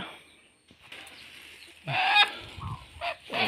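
A few short clucks and squawks from a native country hen, close by, with brief rustling and quiet gaps between calls.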